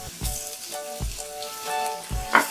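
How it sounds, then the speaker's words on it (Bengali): Ginger and garlic paste sizzles with lightly browned onions in hot oil, a steady close frying hiss with three sharp bursts as stirring or new paste hits the pan, plus some clinking. "এবার এর মধ্যে আদা বাটা আর রসুন বাটাটা দিয়ে দিচ্ছি"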